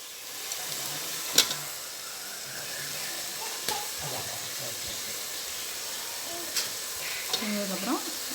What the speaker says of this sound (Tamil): ஒரு கைப்பிடி மல்லி இலை நல்லா வதக்கணும்